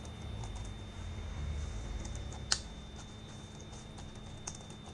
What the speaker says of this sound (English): So we have to press the keyboard from all side, then can use easily.